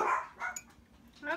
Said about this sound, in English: oh, our doggies are gonna bark.